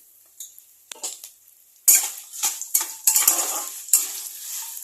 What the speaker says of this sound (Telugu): కరివేపాకు వేసి కొద్దిసేపు ఫ్రై చేసుకోవాలి